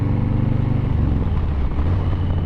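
A Harley-Davidson FXLRS motorcycle rides along with a child passenger, its engine giving a steady, loud, low rumble that continues without a break.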